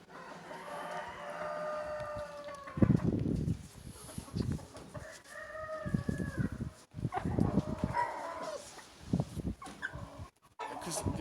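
Breeding hens in a poultry coop cluck and call in bursts, with the rooster-like calls standing out near the mic between stretches of rustling and bird noise.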